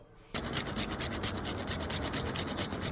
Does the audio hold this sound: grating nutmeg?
yes